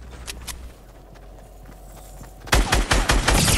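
Gunfire in Fortnite: a few sharp shots early, then a dense, loud burst of rapid rounds and impacts near the end, over faint game ambience.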